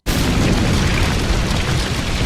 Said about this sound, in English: The kids give him a firework and, oh no, Santa, you're not supposed to light that indoors.